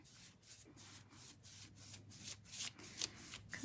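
A paintbrush smooths paint over a small cast craft mould piece in a series of soft, rhythmic swishing strokes, quiet and close, with no talking.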